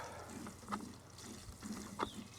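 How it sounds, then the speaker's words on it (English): Water poured onto a trellised cucumber plant in a grow bag, soft splashing trickles in a few short bursts, faint and close, with no talk. "Last thing we're gonna do is give this guy a shot of water."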